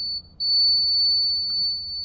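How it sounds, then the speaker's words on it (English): A steady high-pitched electric buzzer tone sounds almost continuously, with a brief dip near the start, then holds clearly and evenly. "You can see there buzzer buzzes"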